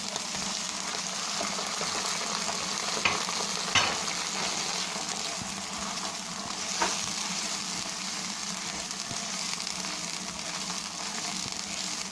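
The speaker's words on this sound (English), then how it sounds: "Give it a nice mix. This is our masala getting ready." Mushroom masala with added tomato fries and gets stirred in a pan: a constant, fairly loud sizzle with a few sharp spoon scrapes and knocks scattered through, and no talking.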